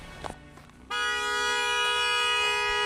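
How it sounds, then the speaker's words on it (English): A car horn sounds in traffic, one long sustained honk starting abruptly after a short stretch of quieter street noise and holding steady to the end. "so you're just honking"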